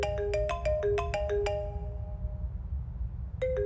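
A phone ringtone chimes in a quick run of bright melodic notes, pauses through a short silence, then starts again near the end, loud and close with no talking.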